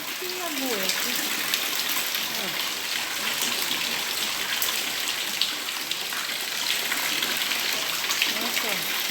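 Heavy rain pouring down in Maceió, a dense steady broadband wash of falling water that fills the whole clip, with a voice speaking briefly near the start.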